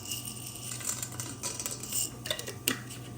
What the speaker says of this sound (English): You put in your kernels.